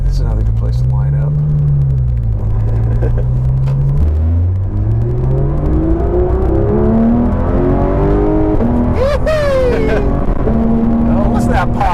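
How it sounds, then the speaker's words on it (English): A loud Porsche GT3 RS engine revs repeatedly with rising and falling pitch, crackling exhaust pops near the end, while a voice talks over the engine. "Oh, listen to that pop."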